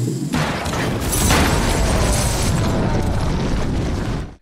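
Gas explosion in an action film scene defeating a monster, a loud sustained roaring blast with rumbling debris filling the whole moment before cutting off abruptly.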